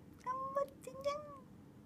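A cat gives two drawn-out meows in quick succession, close and clear, over a low background hum.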